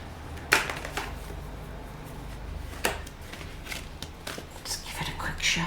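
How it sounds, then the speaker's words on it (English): Tarot cards are shuffled in a few short, crisp riffling bursts close to the microphone, with quiet pauses between them. "Shuffle."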